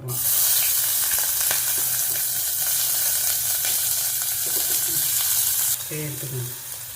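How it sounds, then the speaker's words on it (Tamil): Onions sautéing in a pan with bay leaf, cardamom, cinnamon, cloves and star anise for tomato rice, giving a loud, steady sizzle with scraping stirs throughout, easing slightly near the end. "இப்போ இது வெங்காயம் வதங்கிட்டுருக்கு"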